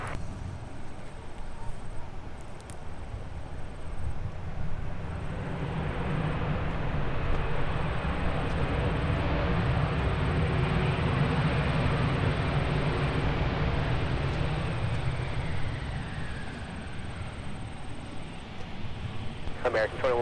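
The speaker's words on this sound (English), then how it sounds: "It's a nice and smooth landing for American out at Charlotte." An American Airlines airliner lands on the runway, a broad rushing roar that swells and holds for several seconds before easing, with radio chatter and voices over it.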